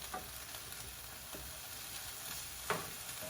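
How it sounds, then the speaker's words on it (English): Rice sautéing lightly in a fry pan for risotto gives a faint, steady sizzle with a few soft scrapes of stirring, no voices. "So we're just wanting to saute this lightly for a minute or two."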